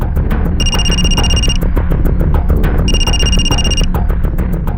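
A telephone rings in a crime drama scene, two separate bursts of electronic ringing over a continuous background music score, with a short gap between them.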